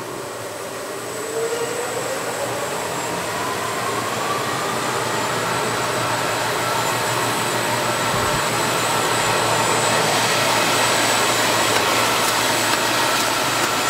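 A Kundig 53-inch duplex wide belt sander runs with a steady, loud whirring roar and mechanical hum that swells slightly as its speed is turned up, with no speech.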